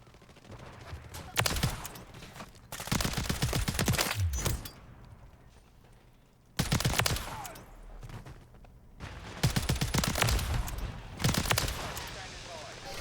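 Bursts of rapid video game gunfire come in several loud volleys separated by quieter stretches, with someone talking over parts of it.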